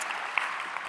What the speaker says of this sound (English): All right, round of applause for